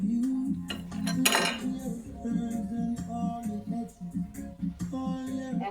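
Metal pot of Jamaican curry goat lifted from a sink and set onto a stove, a run of close clanks, scrapes and rattles of cookware with a brief splashy burst early on.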